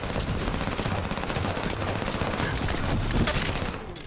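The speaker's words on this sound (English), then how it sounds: "The SMG is really good in this game." Submachine gun fire in a first-person shooter game, a dense, continuous loud burst of rapid shots lasting several seconds with no talking.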